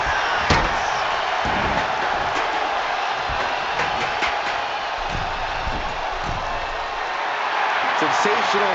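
A heavy body slam crashes off a ladder in a WWE 2K25 wrestling match, several thuds landing over steady arena crowd noise while a commentator talks throughout.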